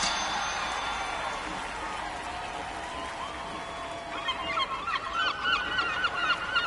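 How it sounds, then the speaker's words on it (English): Seagulls call in the background during a baseball game between the Albuquerque Isotopes and OKC Comets, a steady wash of crowd noise with repeated high gull cries joining toward the end. "We got some Seagulls in the background"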